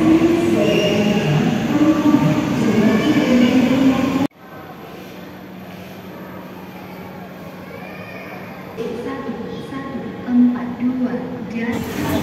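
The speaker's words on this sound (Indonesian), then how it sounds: "Nah ini Kak Afidar baru saja tiba nih dari stasiun Bandung nih yang membawa penumpang dari stasiun Bandung." A Whoosh high-speed train from Bandung rumbles loudly, then quiets to a steady low hum with faint squeals and clatter as it rolls into the station; people talk in the background.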